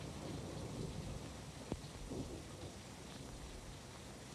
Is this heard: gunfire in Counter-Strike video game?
no